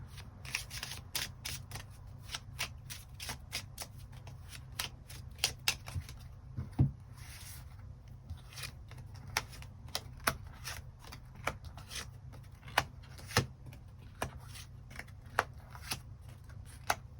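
Tarot cards being drawn and shuffled, a long run of crisp, rapid card slaps and flicks close by over a quiet low hum, with no talking.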